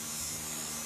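An electric fan hanging from a thread spins with a steady, close electric hum and motor buzz, continuous and alone, with no talking.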